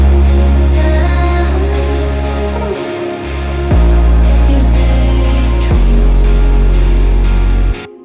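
Deep 808 bass hits pound under a heavily distorted guitar breakdown in a produced beat, with booming low notes that stop briefly and then return with a pitch-sliding attack, loud and dense throughout.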